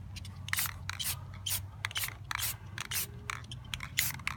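Gold spray paint is sprayed onto a textured abstract painting in a rapid series of short, close, hissing bursts, roughly two per second, with brief pauses between them.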